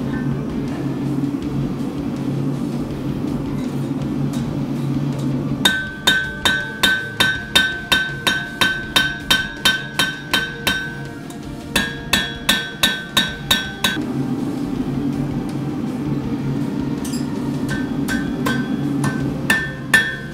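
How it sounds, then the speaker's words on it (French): A flat hammer taps out small dents in metal in quick bursts of bright, ringing blows, with pauses where a low steady hum fills in between. "Là, je vais enlever toutes les petites bosses que j'ai faites avec mon marteau rond, avec mon marteau plat."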